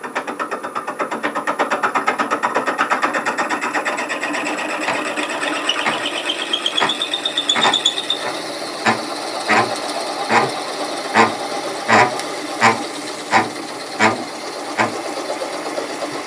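A drill boring into a cherry burl vase spinning on a lathe, a steady mechanical whir with a rising whine, then a series of regular rhythmic knocks as the bit is worked in and out, close and fairly loud.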